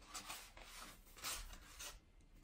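A paper envelope holding a letter from TBS Radio being torn and opened by hand, giving a close, continuous dry rasping and rustling in bursts for a couple of seconds, with no talking.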